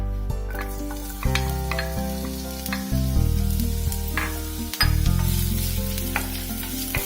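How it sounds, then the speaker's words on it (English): Finely chopped onions sizzle and crackle in hot oil in a pan for butter chicken, a close, steady frying hiss with stirring scrapes and clunks throughout. "I've heated the oil in a pan. I'll put finely chopped onions first."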